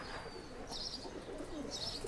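A pigeon kept by a tournament pigeon fancier gives soft cooing calls, faint and close, against a background of other birds chirping.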